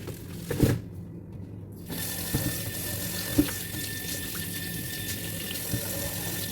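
Tap water runs steadily into a sink as sliced lamb neck is washed, a continuous close splashing stream with a few brief clunks and no talk.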